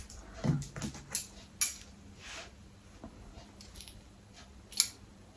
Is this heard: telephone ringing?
no